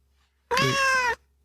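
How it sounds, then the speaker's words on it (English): A house cat gives a single loud, drawn-out meow close by, lasting under a second and standing alone against near silence. "there's a cat being annoying"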